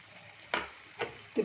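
Chicken curry sizzles in a pan as chili powder is stirred in, with three distinct scraping stir strokes over a steady low fry, heard close and moderately loud.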